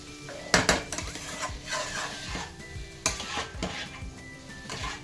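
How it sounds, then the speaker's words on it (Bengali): Fried potato and cauliflower being stirred together in a pan, a spatula scraping and knocking against metal in uneven strokes over a soft sizzle, close and clear, with no voices. "এরপর দিয়ে দিলাম ভেজে রাখা আলু আর ফুলকপিটা, সব একসাথে ভালো করে কষিয়ে নিচ্ছি।"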